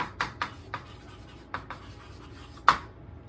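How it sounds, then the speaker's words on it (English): Chalk or marker writing on a board in a math class: a series of short scratchy strokes with pauses between, close and moderately loud, ending on one sharper tap. "I'll write it down here"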